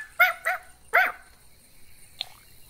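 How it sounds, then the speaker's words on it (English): Dogs in the video game The Sims 4 bark three times in quick succession, sharp and fairly close, followed by a quiet pause and a single faint yip. "Is there dogs out here?"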